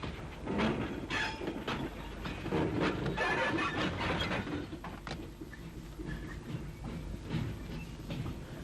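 An ex-NCC V-Class 0-6-0 steam locomotive, built at Derby in 1923, hauls a transfer freight train past, giving a moderate, continuous rumble with rhythmic clanking and rattling wagons at middle distance.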